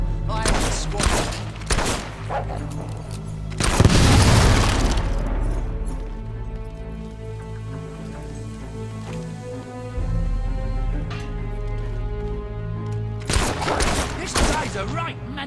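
Gunfire in the video game Fable 3 comes in loud close bursts, with a heavy blast near the start and more shots near the end, over sustained game music and ambience.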